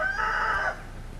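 Araucana hens in a garden coop give a short, close clucking call, a single drawn-out vocal phrase lasting under a second, then quiet.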